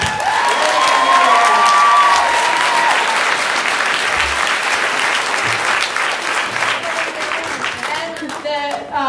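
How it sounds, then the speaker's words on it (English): Loud, dense audience applause with some cheering at a fan convention panel, filling the room steadily before thinning slightly toward the end, with a voice briefly audible over it. "please give her a round of applause"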